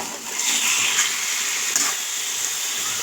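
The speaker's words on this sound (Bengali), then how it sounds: "এই যে ম্যারিনেট করা চিকেনটা কড়ার দিয়ে ঢেলে দিয়েছি, তো অনবরত নেড়ে যাব" Marinated chicken fries in a kadai over a high flame, giving a bright, steady sizzle with soft stirring scrapes, close and continuous for a few seconds.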